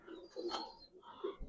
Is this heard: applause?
no